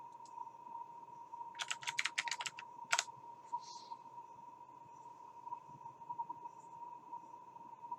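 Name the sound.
typing on a computer keyboard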